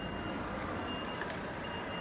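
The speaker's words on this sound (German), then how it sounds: "ist dieser LKW, der hier gerade einparkt." A lorry parking in a large car park in Scotland sounds a steady, faint reversing beep through a constant wash of engine and outdoor noise, with no talking.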